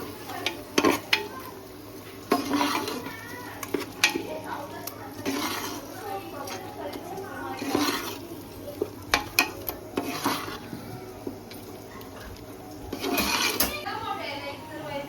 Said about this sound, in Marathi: हिरवं वाटण बनवले आपण तो सर्व टाकून लसूण मिरची कोथिंबीर सर्व काय त्याच्यात मस्त मिक्स करून घ्यायचं आता